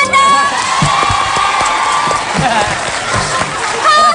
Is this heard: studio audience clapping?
yes